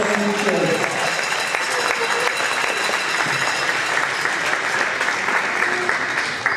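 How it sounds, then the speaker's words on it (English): Applause from the crowd at a girls' basketball senior night, Citadel vs Armbrae, a dense, steady clapping that holds loud throughout, with voices mixed in beneath it. "round of applause for Brooke Lucas for those speeches."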